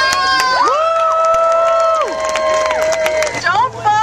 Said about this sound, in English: So I'd like to have a cheer for the Sacramento Police Department.